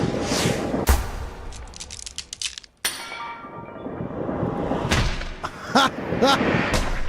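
Gunshots in the video game AI: The Somnium Files: several sharp single shots and clinks amid game noise, with a voice talking over parts of the sequence.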